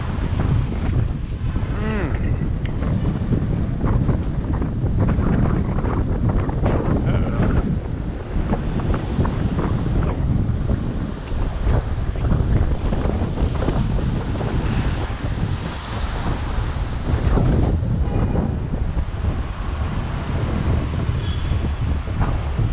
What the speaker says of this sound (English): That wind is so intense.